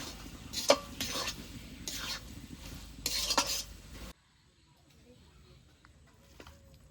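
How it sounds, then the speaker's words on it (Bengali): Stirring cabbage cooked with soybean chunks and chopped coriander in a pan: scraping, sizzling strokes for about four seconds, then the sound drops away to near quiet. "ধনে পাতা কুচিটা দিয়ে দিয়েছি এবার নেড়ে চেড়ে নামিয়ে নেব"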